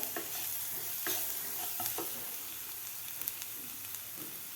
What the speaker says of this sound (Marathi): मिनिटभर वाटण परतून घेतलेलं आहे